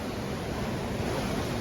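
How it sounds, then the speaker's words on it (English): Stormy sea waves roll in at a seafront at night, a steady, dense wash of surf noise, broadband and continuous with no breaks, mixed with some wind rumble on the microphone. "The waves are really stormy tonight."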